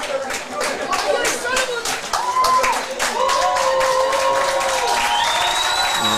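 Home crowd at a men's summer cup football match applauding and cheering a player substitution, a steady dense roar with clapping and whistles that swells and holds, with commentary spoken over it.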